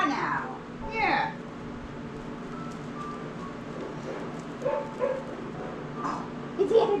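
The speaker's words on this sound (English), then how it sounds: "Oh, is that a doggy on the TV?" Small yips and whimpering dog sounds from a television carry faintly through a room with seven-week-old puppies, short bursts scattered across the moment while a person talks softly nearby.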